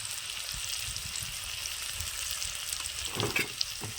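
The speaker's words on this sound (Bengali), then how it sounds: "দিয়ে আমি ভালো করে এই যে নাড়িয়ে নেবো" Young hog plums fry with salt, chili powder and turmeric in a pan, giving a constant bubbling sizzle, with brief scraping stir strokes near the end.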